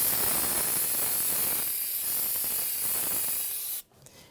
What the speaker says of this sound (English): So now I'm going to clean it off with some brake clean.